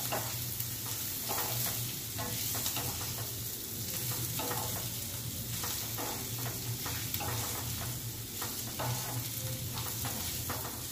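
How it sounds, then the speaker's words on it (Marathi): Squeezed bitter gourd stir-fried in a mustard-seed tempering for Maharashtrian karela bhaji, giving a steady close sizzle broken by repeated scraping stirs of a spatula across the pan, with no talk. "मी पूर्ण कारली हाताने दाबून दाबून त्यातलं पाणी काढून मी फोडणीला घातलेली आहे"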